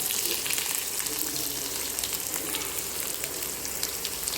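Crushed garlic frying in a hot pan with curry leaves for tomato rice made from leftover rice, a steady dense sizzle with no voices.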